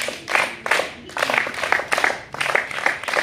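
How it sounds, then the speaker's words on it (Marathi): Schoolchildren in a classroom clap loudly in three quick rhythmic bursts, each a rapid volley of close, sharp hand claps with brief gaps between. "मग आता तुमच्यासाठी 3 टाळ्या जोरात वाजवायच्यात"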